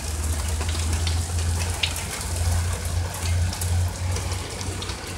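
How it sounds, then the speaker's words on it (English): Heavy rainstorm with big raindrops and wind, a loud, steady, dense patter of drops hitting surfaces close by, continuous throughout with a low rumble underneath. "I mean, I'm talking big old raindrops."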